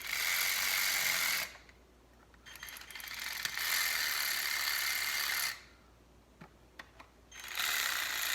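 A hand ratchet clicks rapidly while snugging valve cover bolts on a 1997 Saturn SC2 coupe, in two close, loud bursts of fast pawl clicking separated by pauses with faint single clicks.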